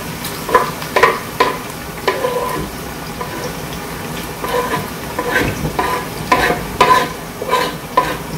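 Onions and tomato sizzle loudly in a pan for a Cameroonian pistachio (pumpkin seed) sauce, with repeated scraping stir strokes in an uneven rhythm over a steady frying hiss.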